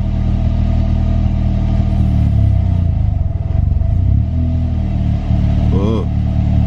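A car engine, left unstarted for weeks, runs and revs loudly up close, with a rough, uneven idle and rising and falling throttle, while people talk over it.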